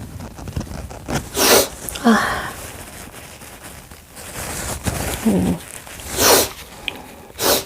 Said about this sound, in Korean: 오늘 왜 이렇게 재채기를 하죠?